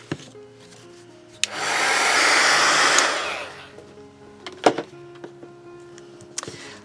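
A hair dryer blows steadily on a magazine page for about two seconds as dry paper is aged for junk journal crafts, with soft handling clicks and thumps before and after and a low background hum.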